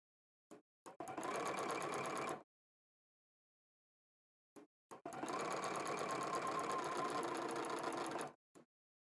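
A sewing machine stitching fabric runs in two bursts, a short one and a longer steady one, each a close rapid mechanical whirr with brief clicks before and after, separated by silence.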